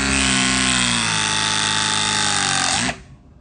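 A RIDGID RP 115 mini press tool runs a steady, loud mechanical whine with a rising motor pitch while crimping a 3/4 inch copper fitting, then stops abruptly near the end of the cycle.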